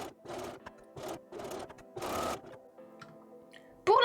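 Sewing machine stitching shirt fabric in several short bursts of rapid whirring, each under a second with brief pauses between, followed by quieter handling noise and a sharp final click.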